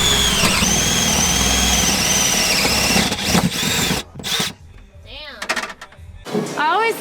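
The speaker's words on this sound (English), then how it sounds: "We're gonna be drilling a hole through here to route everything through" A power drill whines loudly and steadily for a few seconds drilling a hole to route lines during an air suspension management install, then cuts off, followed by short bursts and a few quieter clunks.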